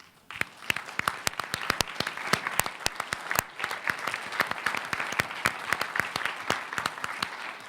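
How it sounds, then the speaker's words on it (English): An audience at a school board meeting applauds parents of award-winning students, a steady stream of many overlapping hand claps with sharp individual claps standing out, moderately distant in a hall. "we want to give you a big round of applause"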